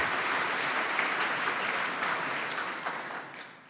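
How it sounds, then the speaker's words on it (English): Audience at a PyCon UK conference lightning talk session applauding for a speaker, a dense sustained wash of clapping hands that holds steady, then gradually fades toward the end. "So a quick round of applause for Claire, please."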